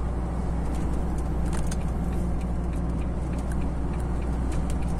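Steady, loud vehicle engine drone under engine braking, no throttle, while descending the Serra do Azeite on the Régis Bittencourt highway, a constant low rumble with road noise throughout.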